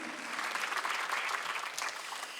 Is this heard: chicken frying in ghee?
no